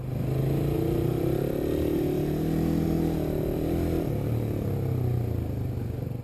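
A 2019 third-generation Suzuki Raider R150 carburetor motorcycle drones steadily in second gear while being ridden, its engine note rising and falling slightly and staying close and loud throughout.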